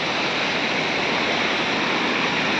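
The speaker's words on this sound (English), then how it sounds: "Amazing waterfall." A waterfall near Pynter village in Meghalaya, a continuous dense roar of falling water that stays loud and even throughout, with no voices.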